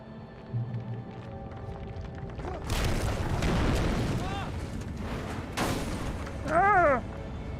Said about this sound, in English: Whenever you get in a pickle, use a flashbang.